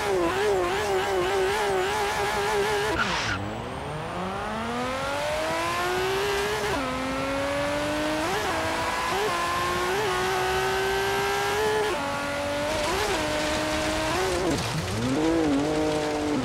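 Nissan Skyline GT-R R32 driven in Forza Horizon, its engine revving loudly and continuously, pitch sweeping up through the gears with sharp drops at each shift and brief lifts off the throttle, heard close with no talking.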